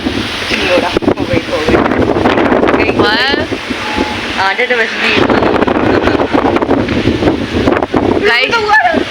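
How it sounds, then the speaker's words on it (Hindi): Strong wind buffets the microphone in loud, continuous gusts, with a voice speaking intermittently underneath. "जिस तरीके की हवा चल रही है"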